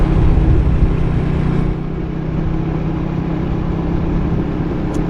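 Motorcycle ridden through a rice field, its mid-pitched engine running steadily and fairly close with a slight drop in level partway, no talk.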